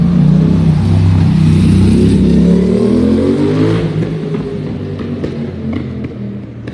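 Loud engines rev hard close by on a street in central Monaco, a rising roar with wavering pitch that eases to a lower, receding growl over the last few seconds.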